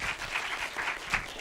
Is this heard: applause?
yes